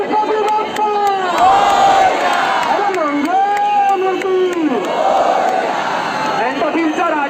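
Dense, loud crowd noise at a Ganpati visarjan procession for Lalbaugcha Raja in Mumbai, with continuous shouting and chanting voices overlapping throughout, rising and falling in waves.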